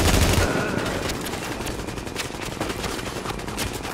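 Enemy machine gun fire in Tom Clancy's The Division, a steady rapid rattle of automatic shots that runs loud and close throughout, opening with a heavier burst.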